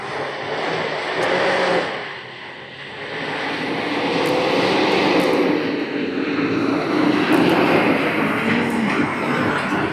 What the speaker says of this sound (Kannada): ಬೇಗ ಹತ್ಕೊಬಿಡ್ತು ಗಾಡಿ ಫುಲ್ಲು ಪವರ್ಫುಲ್ ಆಗಿದೆ ಟೆನ್ ವೀಲ್ ಅಲ್ವಾ